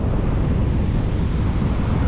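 Sea waves along the Bahia coast near Ilhéus, a continuous low rumbling surf mixed with heavy wind buffeting the microphone, loud and unbroken throughout.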